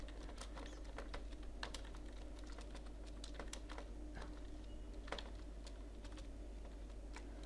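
Steady keystrokes on a computer keyboard as HTML code is typed, a continuous run of light clicks with irregular rhythm, close and moderately quiet over a low steady hum.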